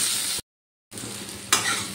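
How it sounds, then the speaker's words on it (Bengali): Pumpkin and carrot pieces sizzle steadily in hot oil, a close, bright frying hiss that drops out briefly and then returns, with a sharp stirring scrape near the end. "কুমড়ো আর গাজরগুলোও ভাজা হয়ে গেছে"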